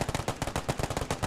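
Rapid bursts of machine-gun fire in a World War II tank battle video game, loud and close, with sharp evenly spaced shots rattling off in a steady stream.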